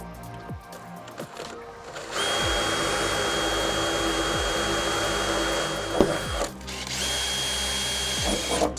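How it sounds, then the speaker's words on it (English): A power drill with a 3mm pilot bit boring into a Ford Ranger body for J-brace brackets, a loud steady whine running several seconds, a pause, then starting up again, with clicks and handling noises around it. "now I'm just going to use a pilot drill bit"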